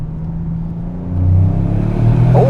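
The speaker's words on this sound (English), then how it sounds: "I'm just going to drive it on the paddle shift the whole lap" A 2025 Toyota GR Yaris automatic on the Nürburgring Nordschleife drones from inside the cabin, the engine note rising as it accelerates, a low steady rumble with no talking.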